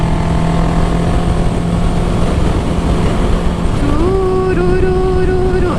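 A motorcycle on a curving road overtakes a truck, with loud, constant wind and road rush throughout. A steady engine drone holds, then the revs climb sharply near the end as the bike accelerates past.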